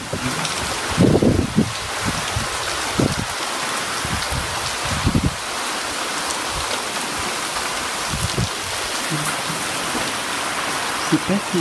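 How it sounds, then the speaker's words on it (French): Rain pours steadily while gusts of wind buffet the scene during a violent winter thunderstorm in Montoison, France, with occasional low thumps and rumbles rising out of the storm noise. "Il y a beaucoup de pluie, il y a beaucoup de vent."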